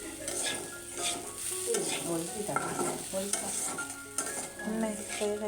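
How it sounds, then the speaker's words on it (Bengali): Moong dal with vegetables cooks in a pot while a spoon stirs and scrapes it, giving a soft sizzle broken by repeated clinks and scraping of utensil on metal, close and without talk. "এখন মা রান্না করছে এদিকে মুগ ডাল সবজি দিয়ে একটা ডাল রান্না করছে"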